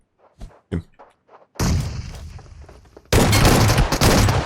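Pump shotgun fire in PUBG Mobile, a few short clicks and thuds followed by two sharp, loud blasts that ring out and fill the rest of the clip.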